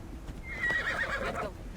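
A horse in Assassin's Creed Odyssey gives one clear whinny that rises and wavers for about a second, with faint hoof clip-clop and low game ambience beneath it.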